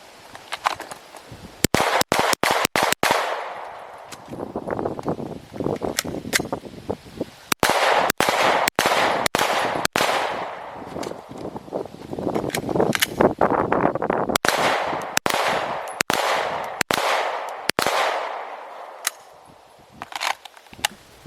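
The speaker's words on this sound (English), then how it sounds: "I fired 5 rounds at each target as fast as I felt I could actually hit them, with a reload in between" Handgun fired rapidly at targets on a range, sharp loud cracks in fast bursts of about five with a pause for a reload between strings, no talk.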